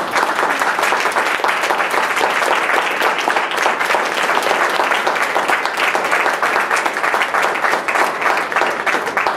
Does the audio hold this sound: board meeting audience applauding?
yes